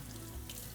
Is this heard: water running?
yes